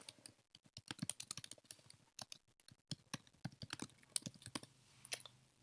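Message being typed on a computer keyboard, a dense run of close, crisp key clicks in quick uneven bursts with brief pauses, no talking.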